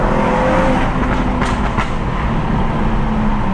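Tuned BMW M135i hatchback pulling hard through first and second gear in town, a loud, close engine roar that climbs steadily and stays strong throughout.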